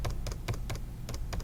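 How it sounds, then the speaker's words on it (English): Someone types on a computer keyboard, with clusters of crisp key clicks arriving in a quick, uneven rhythm, close and clear over faint background hum. "So I'm going to type my name"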